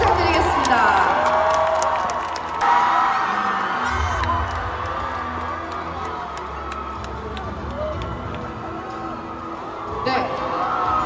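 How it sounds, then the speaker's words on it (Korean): An outdoor-stage crowd at a film festival in Busan claps and cheers for two actors taking the stage, with whoops and shouts over a busy roar and a voice speaking over it. "뜨거운 박수 부탁드리겠습니다."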